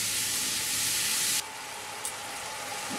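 Turmeric and spice masala sautéing with a little water in a pan for doi potol, a steady close sizzling hiss that drops abruptly to a quieter simmer partway through.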